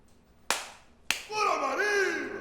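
Two sharp, loud hand claps ring out about half a second apart in a quiet room, followed at once by a voice speaking.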